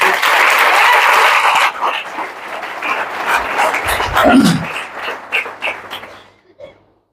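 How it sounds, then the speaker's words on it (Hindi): Loud audience applause at a business seminar, a dense roar that thins into scattered individual claps and fades out, with some voices and a brief whoop partway through. "एक बार जोरदार ताली"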